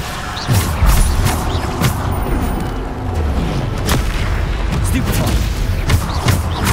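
Bombarda blasting spells explode in Hogwarts Legacy, a string of heavy booms and crashing impacts amid combat noise, with a person talking over the fighting.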